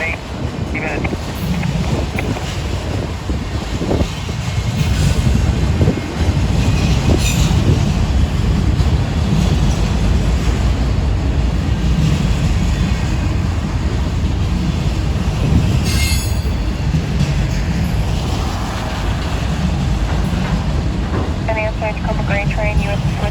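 A southbound BNSF autorack freight train rumbles steadily past a 21st Street crossing at close range, with wheel squeal, wind buffeting the microphone and a faint background voice.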